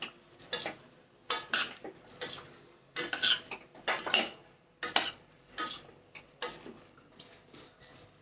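A metal spoon scrapes and clinks against a cooking pot while yellow khichdi with sesame seeds is stirred, in a steady series of close, sharp bursts with no talking.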